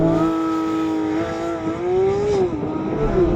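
A Porsche 911 GT3 launching hard from a standstill with traction control on, its engine revving high and climbing in pitch through the gears, loud and close with a brief shift dip and no talk.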